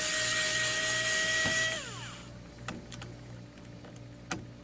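An AM ARROWMAX SES Ultra precision electric screwdriver spins screws out with a steady motor whine that winds down, followed by a few faint clicks and taps nearby.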